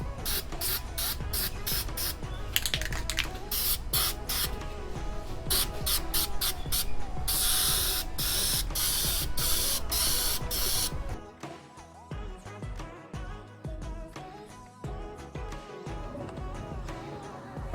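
Aerosol primer sprayed onto a metal valve cover in repeated short bursts, hissing loudly up close in a steady on-off rhythm, then stopping as quieter handling sounds follow.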